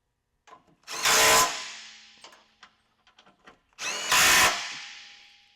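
A power tool tightens bolts on a rear bumper of a third-generation Toyota Tacoma in two loud, short whirring bursts about three seconds apart, with small clicks and taps of hardware between them.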